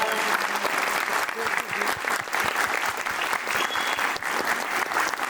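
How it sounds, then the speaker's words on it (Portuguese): An audience applauds a guest being welcomed on stage at an opening event, a dense, steady wash of clapping that holds loudly from start to finish. "para os aplausos aí, galera"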